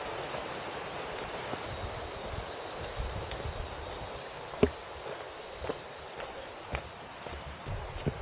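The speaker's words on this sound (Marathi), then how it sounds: "हे रातकिड सुरू झालं वरडायला" Crickets chirp at night near a waterfall, a thin, steady high-pitched trill held faintly over a low rushing background, with a few scattered knocks.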